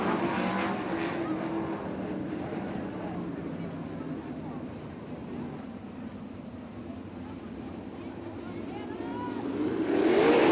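410 sprint cars race at Attica Raceway Park, their engines making a dense, continuous roar that holds steady and then swells loudly near the end as cars pass close. A commentator's voice sits faintly beneath the noise.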